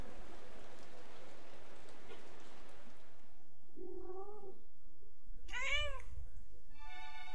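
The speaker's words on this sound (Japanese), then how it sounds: "猫も泣いとる。" A cat meows twice in a game scene, a short soft call and then a louder wavering one, following a stretch of steady rain-like hiss that cuts off.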